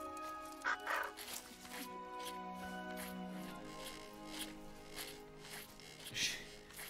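A crow caws a few times in the film Maleficent, faint and somewhat distant, with scattered short calls over a quiet background of film sound and music.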